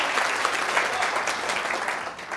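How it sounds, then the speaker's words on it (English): Comedy club audience applauding during a stand-up set, a brief, full wash of clapping that fades slightly at the end. "Don't applaud."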